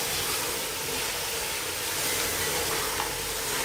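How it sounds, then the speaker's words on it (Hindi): Onions fry with beef in a pan for kachnar gosht, giving a steady, even sizzle throughout with no talking. "अब हमने प्याज़ों को भी इसके साथ अच्छी तरह फ्राई करना है।"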